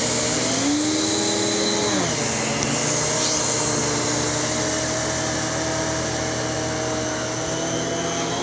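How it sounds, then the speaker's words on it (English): A vacuum cleaner's motor hums steadily, its pitch dropping early as it is dialed down to a low power setting for smooth floors, a loud close whine continuing without speech. "You can hear the motor tune it down a bit, but that's how quiet this thing is on low power"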